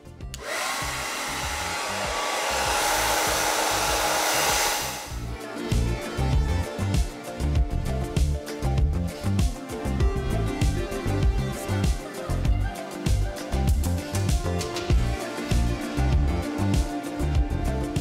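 A hair dryer blowing on medium heat over a wig, a loud, steady whooshing roar for about five seconds that cuts off abruptly and is followed by music.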